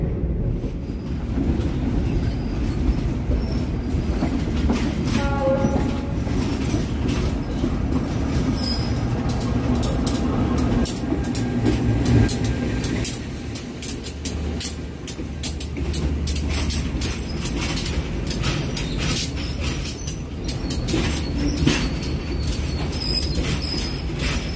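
The Pangandaran passenger train rolls into Nagreg station steadily, wheels clattering and squealing on the rails, loud and close, slowing with brakes hissing and metallic screeches.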